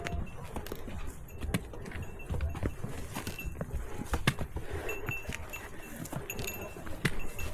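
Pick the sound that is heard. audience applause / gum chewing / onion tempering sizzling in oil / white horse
white horse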